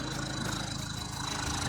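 A Mitsubishi Delica's 2.8 turbo diesel engine idles through a non-original exhaust, a steady close rumble with an even low throb and no break.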